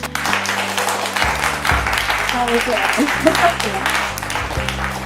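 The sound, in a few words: applause for team A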